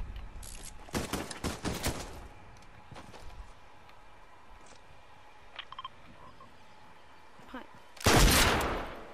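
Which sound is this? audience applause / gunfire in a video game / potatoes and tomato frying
gunfire in a video game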